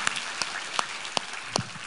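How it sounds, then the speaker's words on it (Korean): Soft applause from a church congregation during a Sunday worship service, a quiet, brief patter of clapping with a few sharper individual claps standing out over a hushed room. "우리 하나님께 감사와 영광의 박수 올려드리겠습니다"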